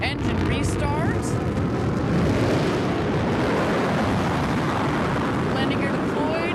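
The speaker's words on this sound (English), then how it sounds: "the boosters were kicking on" A New Shepard rocket booster's engines fire back up during descent, a broad, steady roaring rumble heard from a distance while a voice talks over it.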